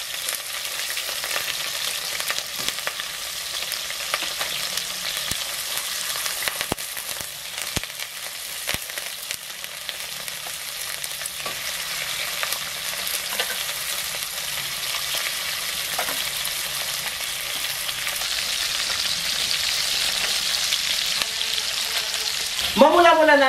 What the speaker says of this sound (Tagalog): So pagkalagay natin, iinit na kaagad yan. Kaya tayo kaagad din magprito.